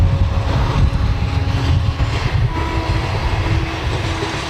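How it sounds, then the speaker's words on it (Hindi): A train passes close by, a loud continuous rumble with rhythmic clattering of wheels on rails that eases slightly toward the end, with no voices over it. "एक बार ट्रेन जाने दो, मैं बताता हूँ आपको।"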